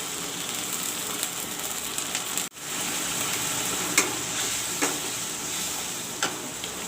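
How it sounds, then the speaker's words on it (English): Masala paste hits a hot pan and sizzles steadily and close for a vegetable curry, with a brief cut near the start and a few light clinks over the continuous hiss. "now I will put in the masala, the paste which I made"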